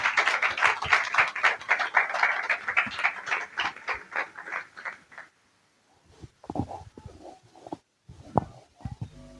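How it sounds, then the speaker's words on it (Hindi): Church congregation at a Sunday service applauding together, steady dense clapping for about five seconds that fades out, followed by scattered claps and thumps. "आप खुशी से तालियां बजाएं।"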